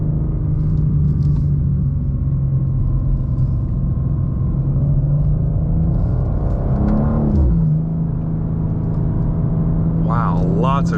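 A 2024 BMW M2 accelerates hard from inside the cabin, its engine note rising steadily with a brief dip and climb as it shifts, loud and continuous. A voice talks over the engine.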